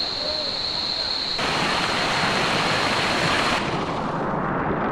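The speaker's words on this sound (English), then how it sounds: "The waterfalls were amazing." Waterfall in Guatemala, a loud constant roar of falling water with broadband hiss that swells and then thins slightly, steady with no breaks.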